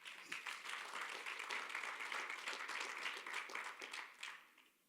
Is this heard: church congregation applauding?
yes